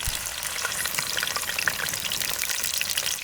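Onion paste frying in hot oil with fenugreek seeds for a village-style fish curry, giving a steady dense sizzle and crackle with faint stirring scrapes throughout, close and continuous.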